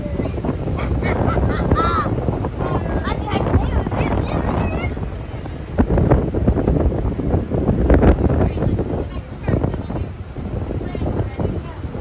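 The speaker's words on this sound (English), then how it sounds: "If you can hear me over this crazy wind, that's real Jamestown right there." Strong, gusty wind buffets the microphone outdoors at a Virginia state park along the York River, a constant roaring rumble with voices talking underneath throughout.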